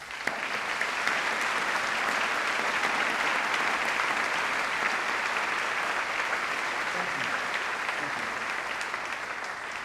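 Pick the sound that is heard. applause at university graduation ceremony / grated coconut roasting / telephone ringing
applause at university graduation ceremony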